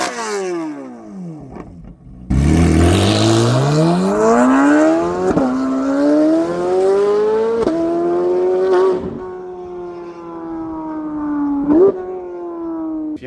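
A Corvette C8 Z06 with modified exhaust revs hard and loud, pitch climbing steadily through several gear-like surges with brief dips and rises, close and continuous with no talk.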